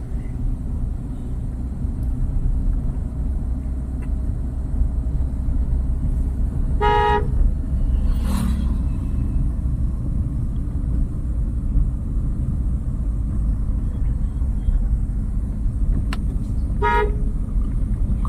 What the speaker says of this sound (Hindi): अंकल जी को देख करके हॉर्न दे करके।